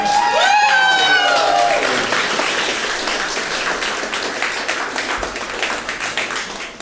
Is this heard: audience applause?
yes